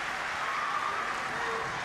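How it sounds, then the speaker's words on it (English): Crowd applause for a player at a women's international basketball game between Great Britain and Germany, heard as a steady, fairly faint wash of clapping throughout. "Frida Brunner gets a round of applause."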